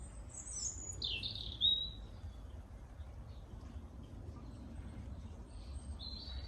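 Small birds in an English garden give a couple of faint, thin chirps at a distance over soft outdoor background noise.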